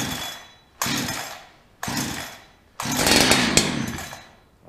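A Holzfforma 372xp chainsaw engine is pull-started three times, each loud rasping crank of the recoil starter followed by a brief sputter as it tries to catch, heard up close with no talking.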